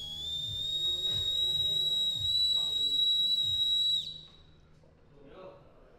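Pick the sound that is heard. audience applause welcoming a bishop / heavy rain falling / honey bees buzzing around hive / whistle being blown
whistle being blown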